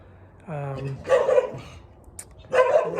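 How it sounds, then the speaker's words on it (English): Dogs barking and yelping in a rough scuffle, loud and close, with harsh bursts coming in two separate waves. "dogs trying to murder another dog"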